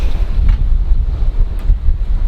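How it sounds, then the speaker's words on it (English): Steady wind roars across the microphone aboard a sailboat near Utö in Finland, with low rumbling gusts and a faint wash of water, continuous and close for the whole stretch, with no talking. "we're just cutting through the wind"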